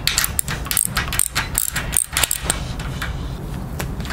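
Metal bolts being cranked down on a homemade grind rail with L brackets, a series of rapid ratcheting clicks and metallic jangles in quick bursts, close up, over a steady background hum.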